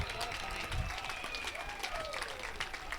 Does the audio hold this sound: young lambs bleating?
no